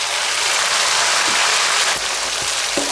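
Dried chilies crackle in a generous pool of hot oil with a big handful of Sichuan peppercorns over low heat, a dense, steady, close hiss like heavy rain lasting throughout with no voices.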